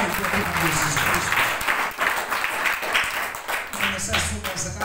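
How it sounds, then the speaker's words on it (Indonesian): A church congregation clapping in praise during a sermon, steady dense applause throughout with some voices mixed in. "Tepuk tangan terbaik buat Tuhan Yesus Kristus"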